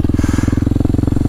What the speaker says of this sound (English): I've had this Norifumi exhaust on, and gotta say I like it. It's a little loud.